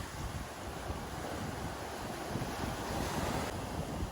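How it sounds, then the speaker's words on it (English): Ocean surf breaking and churning close by as a swimmer heads out past the waves, a steady, loud wash of water with gusts of wind noise on the microphone throughout, no voices. "Make sure you duck under the waves at all times."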